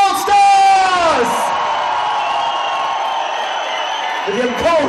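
A large crowd roars and whoops in welcome for the Btown Allstars at a live show, a loud sustained cheer that swells at the start and carries on under an announcer's amplified voice.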